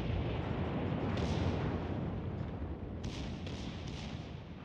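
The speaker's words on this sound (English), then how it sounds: "Secondaries firing away, main guns firing away." Battleship main guns and secondary batteries fire in a naval battle game, a dense, continuous rumbling roar of booming shots with sharper bursts standing out around the middle and later.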